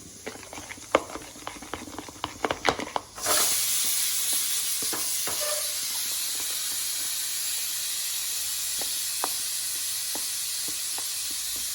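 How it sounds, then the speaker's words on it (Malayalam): Loud steady sizzling of pakoda frying in hot oil, starting abruptly after a few seconds of light clinks and taps, with occasional pops throughout. "ഇങ്ങനെ ഇട്ട് പൊരിക്കൽ"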